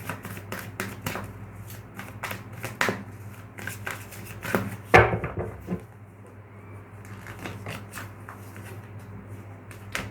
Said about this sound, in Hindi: Let's start shuffling.